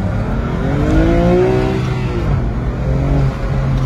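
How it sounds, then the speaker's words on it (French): A loud BMW M2 Competition engine (410 hp) revs and roars up close, pitch climbing and falling in sweeping waves over a steady rumble, with no voices. "Oh là là que c'est énervé cette bagnole."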